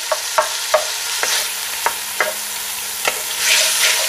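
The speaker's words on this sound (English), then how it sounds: "we're just going to brown off the bacon for starters" Bacon browning in a pan on the stove for chorizo chicken soup, a soft sizzle broken by a series of sharp scraping and tapping knocks as it is stirred and broken up.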